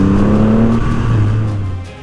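A Triumph Rocket 3R motorcycle engine revving under throttle, a loud, close, steady growl holding a throaty tone that gradually slides down in pitch and fades slightly over two seconds, with no voices.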